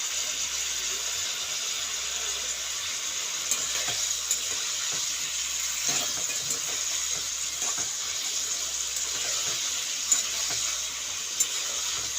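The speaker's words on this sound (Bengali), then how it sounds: "আর একটু কষাবো মশলাটা সবজিটাও কষে যাবে মশলাটাও কষে যাবে" Spices and vegetables sauté in a pan for a light fish curry, giving a steady hiss of frying with scattered faint stirring clicks, close and constant, with no voices.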